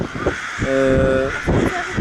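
Crows caw from the trees of a village in Yüksekova, several harsh calls in quick succession against outdoor background noise, fairly loud and close.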